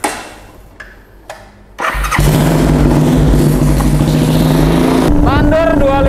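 A Suzuki Thunder 250 chopper with a twin-port exhaust starts after some quiet clatter and settles into a loud, steady idle rumble. A voice comes in near the end.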